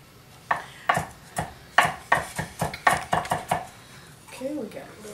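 Knife chopping pepper on a cutting board while making guacamole with jicama and lime zest, a run of about a dozen crisp, fairly even chops close by, ending with a brief voice.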